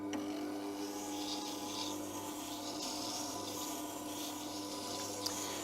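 A bevel-edge chisel held in a honing jig slides back and forth across a sharpening stone, giving a steady, faint, continuous scraping rub with no pauses and no voice.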